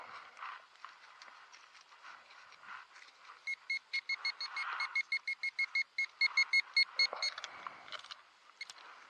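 A Garrett ACE 250 metal detector gives a series of rapid, clipped electronic beeps, pulsing repeatedly for several seconds over background rustling and crunching, fairly faint.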